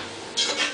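Seasoned sausage, vegetables, olive oil, thyme and parsley folded together in a pan: a soft background hiss, then two brief scraping, clinking utensil strokes against the pan near the end.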